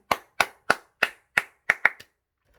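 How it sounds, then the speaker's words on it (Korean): A church congregation claps in praise during a dawn service: a rhythmic 3-3-7 pattern of sharp, loud, unison claps, with a steady beat that quickens near the end before stopping. "주님께 영광의 박수."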